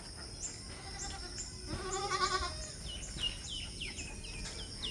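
A Malabari goat bleats in short wavering calls, fairly faint, with other goats or birds chirping softly around it over a low background hum.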